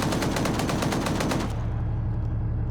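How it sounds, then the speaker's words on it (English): Rapid machine-gun bursts from a gun turret in the Arma 3 military game, a dense, loud, continuous rattle of repeated shots that stops abruptly after about a second and a half, leaving a lingering echoing tail. "I really want to know how much ammo that gun turret had, because it's been firing a lot."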